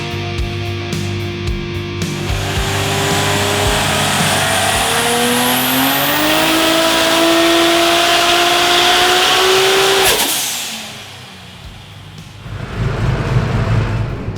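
A Ford Barra-engined car making 850 kilowatts revs hard, its loud, close engine note climbing steadily in pitch for several seconds before dropping away sharply, then a lower idle rumble returns.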